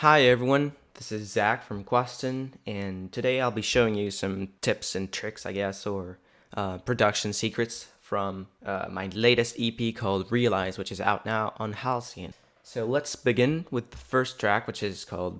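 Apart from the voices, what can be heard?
No everyday noise stands out behind the speech.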